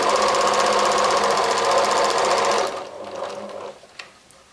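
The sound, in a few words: sewing machine sewing fabric squares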